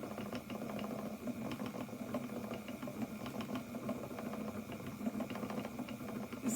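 The small motor of an Electric Eel Wheel Nano spinning wheel runs steadily at a quiet level. A light continuous rattle and hum continue unchanged throughout.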